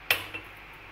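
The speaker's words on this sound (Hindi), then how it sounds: "इसे अच्छे से मिक्स कर लेंगे।" A spoon stirring kheer in a pot: one sharp metallic clink followed by a softer second tap, close and brief, with quiet around them.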